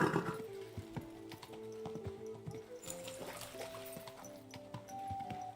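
A horse in a video game clops along with irregular hoof beats and snorts, set against layered game music tones and faint ambient sounds.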